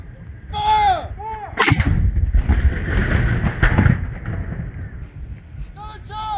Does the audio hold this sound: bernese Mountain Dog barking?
no